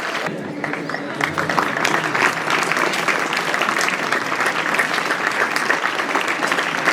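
An audience claps loudly and steadily to welcome a teacher onto the stage at a Teacher's Day celebration in a school hall, a dense, sustained applause filling the whole stretch.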